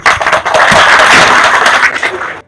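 Students clapping at a school event in Bagerhat, a dense burst of applause lasting a couple of seconds before cutting off sharply.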